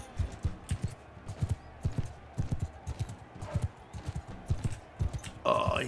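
Horses in the Realm of Thrones game clip-clop in a steady, rapid patter of hoof beats at moderate volume, ending in a brief burst of louder noise.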